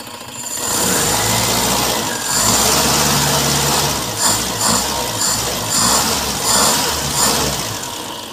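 An engine runs right after a fuel filter replacement, idling loudly and close with a slightly uneven, lumpy rhythm and a few small surges in revs.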